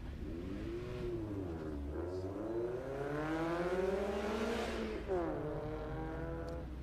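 The number 36 Ford Focus race car laps the Daytona track at a solo event, its engine revving up and down through gear changes with a continuous, moderately distant drone.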